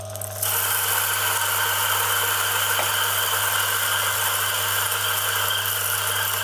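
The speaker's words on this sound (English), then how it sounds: "I'm gonna start the grinder" A Turin DF83 coffee grinder grinds 20 grams of coffee with its lid off, starting abruptly and then holding a loud, steady motor drone with a high whine and buzzing vibration, with no voices.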